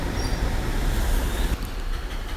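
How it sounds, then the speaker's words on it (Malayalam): Crowded passenger train bound for Tiruchirappalli, Kerala to Tamil Nadu: a steady, loud low rumble of rolling rail wagons throughout, with a slight shift in texture partway through. "ഈ ട്രെയിനിലാണ് നമ്മൾ ഇനി തിരുച്ചിറപ്പള്ളിക്ക് പോകുന്നത്"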